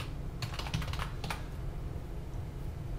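Fingers type on a computer keyboard, a quick burst of close key taps followed by a couple more presses, over a steady low background hum.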